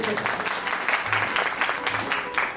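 An audience at a bhajan evening claps in a steady burst of applause, fairly close, while a voice speaks faintly underneath.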